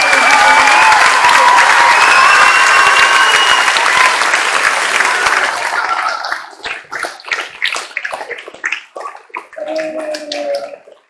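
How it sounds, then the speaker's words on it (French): An audience in a hall applauds the sound technicians at a school performance, loud, dense clapping that fades after about five seconds into scattered claps, with brief voices near the end. "Je pense qu'on peut tous les applaudir pour le travail."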